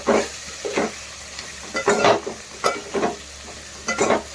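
Cabbage keema fry being stirred in a pan, a series of short scraping strokes roughly every half second to second, with a soft sizzle running underneath, close and fairly loud.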